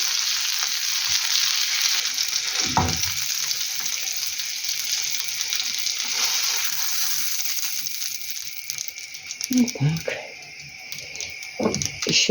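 Steady hissing sizzle of pounded chops frying in hot oil in a pan fills the whole stretch, with occasional clinks and a voice talking near the end.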